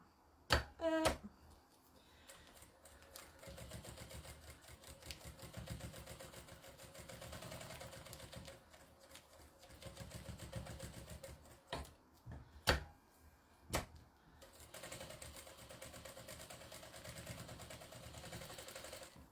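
A sewing machine runs a basting stitch at low volume, whirring steadily with a few sharp clicks and taps scattered across it, quiet throughout.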